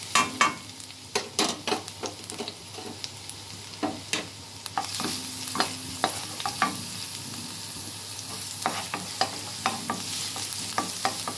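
Chopped garlic frying in a pan: a steady close sizzle with repeated scraping and clicking stirs of a spatula against the pan, fairly loud and without voices.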